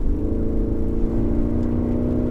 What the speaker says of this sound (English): lay off the throttle, you can hear those burbles, and it's like a choir of demons has started performing right in the exhaust manifold